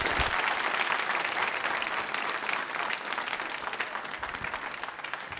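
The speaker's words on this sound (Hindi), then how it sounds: "लीजिए तालियां जोरों से बजाइए" Audience at a nursing college quiz show applauding a contestant, a dense and loud burst of many hands clapping that slowly tapers off, with no talk over it.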